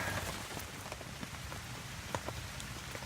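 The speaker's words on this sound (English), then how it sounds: "It's raining hard though." Heavy rain falls steadily on a campsite, giving a dense, continuous patter with scattered sharper drops striking a nearby surface, heard alone at an even, moderate level.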